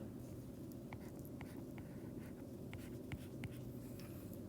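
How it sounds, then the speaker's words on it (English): Writing on a board during a physics lesson on the universal law of gravitation: faint, close scratchy strokes in short irregular bursts over a steady low room hum, with no speech. "I'm going to go ahead and write 1/9 F."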